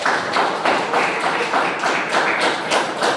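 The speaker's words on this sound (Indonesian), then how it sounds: "Beri aplaus." A classroom of students applauds together, a dense, steady patter of many hands clapping in a pulsing rhythm, loud and close.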